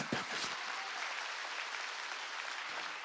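A church congregation at an evening revival meeting breaks into loud sustained applause, a dense continuous wash of many hands clapping at once.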